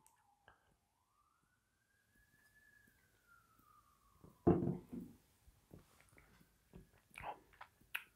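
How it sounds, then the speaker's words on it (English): A police siren wails faintly in the distance outdoors, one slow rising and falling sweep, followed by closer soft clicks and handling noises. "You're gonna hear some sirens apparently, because it's in the background."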